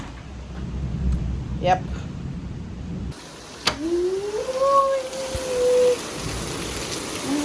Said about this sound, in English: Alright, so the rain ease up a little.